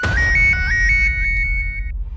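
A phone ringtone plays loud and close, a bright electronic melody of rapidly repeating tones lasting about two seconds before cutting off, with no voices over it.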